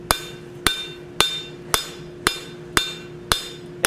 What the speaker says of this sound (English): Then we can come from the back side with the flat of the hammer